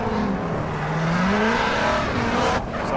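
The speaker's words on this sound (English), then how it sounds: "Will it be Kevin Gorke from Houston, Texas in that Renspec Chevy Corvette, or will it be Rome CP in that Garagistic BMW M3?" A Chevy Corvette and a BMW M3 battle in a drift competition at LS Fest West, engines roaring and revving continuously with rising and falling pitch, tire noise underneath, loud and close.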